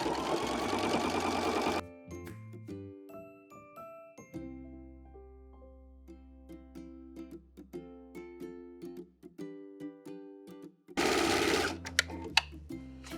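A sewing machine stitches blazer fabric in short runs, its rapid mechanical whir starting and stopping between pauses, with light clicks and ringing tones between bursts.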